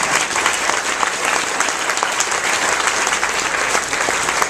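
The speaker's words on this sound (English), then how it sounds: "we need to give her another round of applause" Sustained applause from an audience at a Canyon View sixth-grade graduation ceremony in 2014, a dense, steady wash of clapping hands lasting throughout, fairly loud and close, with no talking over it.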